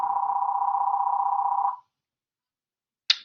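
A telephone rings in a classroom during a chemistry class: one sustained electronic tone lasting under two seconds, then silence and a brief sharp click.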